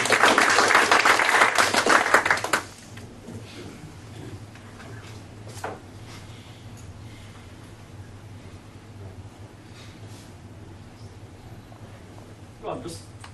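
Live audience at a stage show bursts into loud, dense applause for two participants, lasting about two and a half seconds before cutting off abruptly into quieter room noise with a few scattered knocks.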